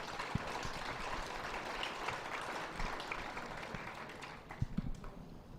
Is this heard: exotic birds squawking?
no